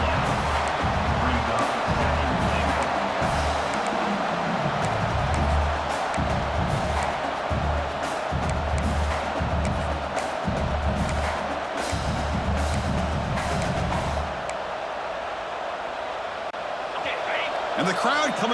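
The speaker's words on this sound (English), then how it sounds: "And the crowd coming to life here, trying to help this defense down in the red zone." A stadium crowd in EA Sports College Football 26 roars as a dense, continuous wash of noise during a red-zone defensive stand, with sports commentary voices talking over it throughout.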